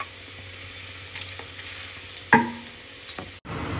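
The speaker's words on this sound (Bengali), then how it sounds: "একটু জল দিয়ে দিলাম।" Water poured into a hot pan bursts into a sharp sizzle with a sudden loud hiss and spatter, then a brief stirring clatter before the sound cuts off near the end.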